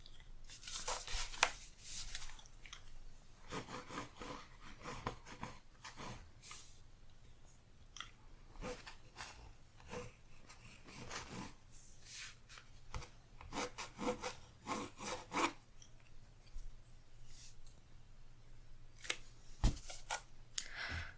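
Pencil lines rubbed out with an eraser on a canvas sketch, close soft scrubbing strokes in irregular bursts with brief pauses, quiet and intimate with no talking.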